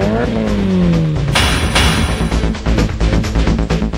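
A Lancer Evo 7 race car wearing 255-width tires revs hard on a mountain touge road, its engine note climbing and dropping through gear changes, loud and close, with a brief high whine at the start.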